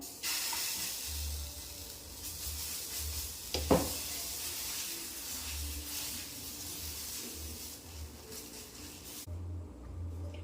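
Dal adai batter sizzles on a hot griddle stone with a faint, steady hiss and a brief scrape partway through. The sound stays quiet and close, then cuts off near the end.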